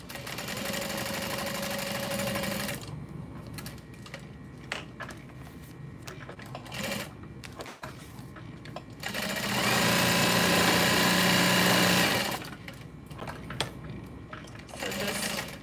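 A sewing machine stitches along the edges of a fabric backpack strap in two loud, steady whirring runs, separated by a pause filled with small handling clicks and rustles.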